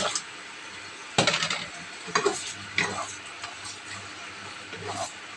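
A spatula stirs fried tofu through tamarind sauce in a hot pan, scraping and clinking at intervals over a steady soft sizzle, with a few louder strokes against the metal.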